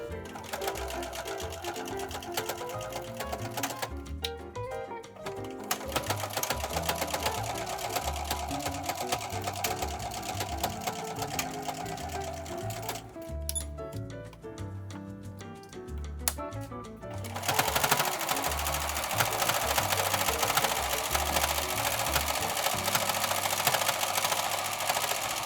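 A sewing machine stitches a bowl cozy in close, steady runs of rapid mechanical whirring. It pauses briefly between seams, then picks up again and ends in a louder, denser burst.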